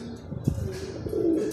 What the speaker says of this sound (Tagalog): Ayan na yung mga ibon natin.